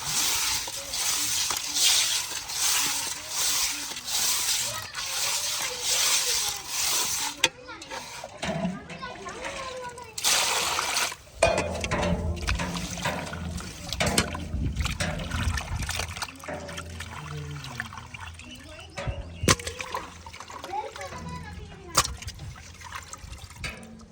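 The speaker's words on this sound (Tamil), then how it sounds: "எல்லாம் ஆஞ்சாலும் உப்பு போட்டு நல்லா உழைச்சி கழுவுனாதான் மீன் சுத்தமாகும்" Fish being scrubbed and rinsed by hand with salt in water: splashing, trickling and sloshing come in bursts, close, with people and children talking throughout.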